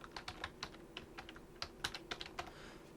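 Keys clatter on a computer keyboard in irregular quick taps, soft and close, while someone edits a file on a Raspberry Pi robot setup with no one talking.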